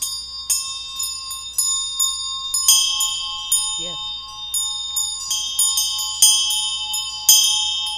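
A gong is struck again and again during a Chod practice session, with bright ringing hits in a quick, uneven rhythm that overlap and sustain. A brief voice is heard midway.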